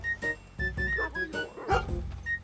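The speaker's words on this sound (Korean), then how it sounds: "로도스에서 개도 관찰을 했는데 이게 상점 옆에서 계속 짖고 있더라고요" A dog in the video game Red Dead Redemption 2 barks repeatedly beside a shop in the town of Rhodes, a steady series of close, sharp barks.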